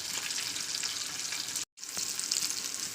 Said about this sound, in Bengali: তেলটা ভালো গরম হয়ে গেলে আমি এক একের সমস্ত মাছগুলোকে দিয়ে দিলাম তো মাছগুলোকে ভালো করে ভাজা করে নেবো